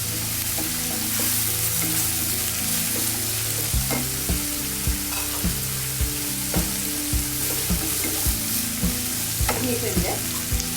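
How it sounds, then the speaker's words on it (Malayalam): Curry leaves and green chillies sizzle in a pan, a loud, continuous spitting hiss with small pops, heard over a steady background of tonal sound. "പിന്നെ നമ്മൾ എടുത്ത് വെച്ചിരിക്കുന്ന പച്ചമുളക് ചേർത്ത് കൊടുക്കാം."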